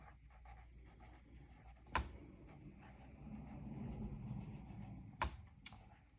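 A pen moves across paper while words are written during a doodling session, giving a faint, steady scratching with a few soft taps and knocks. The room is quiet and no one speaks.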